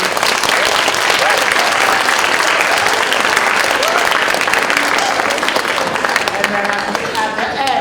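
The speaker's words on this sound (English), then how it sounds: "So let's give them a round of applause" Audience at a 4th grade orchestra winter concert applauds strings teachers, loud sustained clapping filling the room, with voices and cheers mixed in toward the end.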